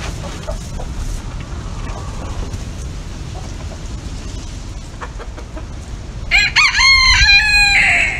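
A bantam rooster crows once near the end, loud and close, after a stretch of quiet farmyard background.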